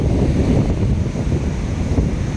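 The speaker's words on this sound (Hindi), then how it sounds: "हवा इतनी तेज़ चल रही है" Strong wind at the Rameswaram seashore buffets the microphone in a loud, steady, low rumble, with surf washing underneath and no talk.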